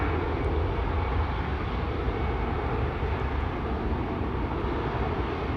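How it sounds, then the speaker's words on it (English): Airbus A350-1000 jet airliner approaching at Schiphol Airport, a steady broadband engine roar holding constant and fairly loud throughout, with no voices. "The A350-1000 is coming this way."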